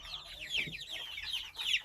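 A small İspenç chicken clucking in a coop, a run of quick, bright clucks rising and falling in short bursts, fairly close and moderately loud, with no talk over it.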